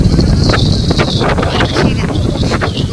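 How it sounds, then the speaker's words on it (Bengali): Strong wind blows steadily outdoors by a river, a loud continuous rushing and buffeting against the microphone throughout, with no clear talk over it. "এত সুন্দর বাতাস বইছে।"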